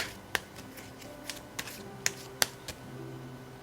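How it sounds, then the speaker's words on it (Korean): Tarot cards are shuffled and drawn, heard as a handful of soft, sharp flicks and slaps spaced irregularly over a quiet background, close and faint. "다음 여러분에게 필요한 소울 메시지 카드 2장 뽑겠습니다."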